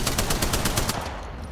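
Rapid automatic gunfire in a video game rattles off in a quick, loud burst of about eight shots that cuts off abruptly.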